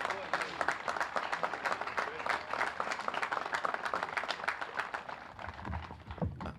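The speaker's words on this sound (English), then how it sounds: "Please give a nice round of applause for David." An outdoor crowd at a bandstand dedication applauds a newly elected state representative, moderately faint, steady clapping that begins to fade near the end as a voice starts up.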